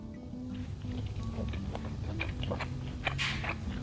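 Close, wet chewing and biting on basil Parmesan sausage, soft crunchy mouth sounds repeating over a steady low background for a few seconds, with no talking.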